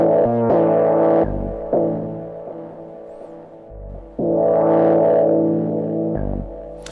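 A self-playing patch on an Elektron Analog Four analog synthesizer sounds buzzy, distorted tones in repeating bursts, with low thumps and sustained gritty notes that swell and drop.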